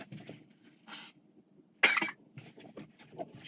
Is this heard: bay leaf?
no